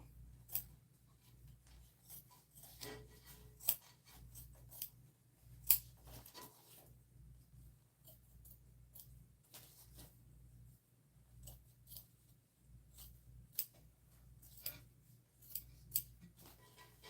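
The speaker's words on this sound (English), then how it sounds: "let's trim this seam down and then we'll turn it out" Scissors trimming a fabric seam while sewing a bag, a series of crisp, close snips arriving irregularly, some in quick clusters and others with pauses between, over a faint low background hum.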